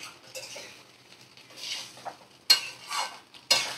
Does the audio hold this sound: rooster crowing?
no